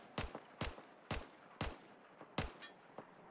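L85A2 assault rifle firing in Battlefield 4, five or six crisp close single shots spaced roughly half a second apart in a steady rhythm, each with a short ringing tail.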